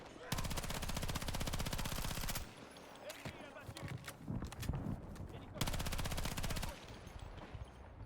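Video game gunfire aimed at a tank, with two long, loud bursts of rapid automatic fire separated by quieter battle noise and scattered shots, while a player talks.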